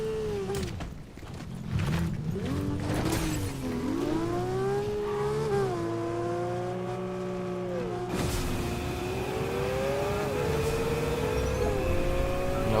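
Car engine in the Fortnite video game, a steady droning motor tone that rises and falls in pitch as the vehicle accelerates and shifts, loud and continuous throughout with background game noise and no talk.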